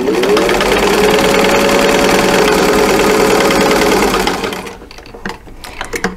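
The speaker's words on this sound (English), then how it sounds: "we'll just go ahead and stitch that with a 1/4 inch seam" A sewing machine runs steadily for about four seconds, stitching a quarter-inch seam through quilt fabric with a fast, even whir, then stops, leaving a few faint handling clicks.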